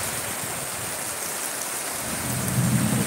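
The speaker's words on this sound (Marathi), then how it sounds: "जोरात गडगडत आहे बघा." Steady heavy rain hisses continuously during an early monsoon downpour in Konkan, with a low thunder rumble swelling toward the end, loud and close with no voices.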